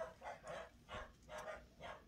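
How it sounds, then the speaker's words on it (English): Puppies bark in a rhythmic series of five or six yips, somewhat distant and faint, with no speech. "You hear the puppies? They're guarding the kingdom again."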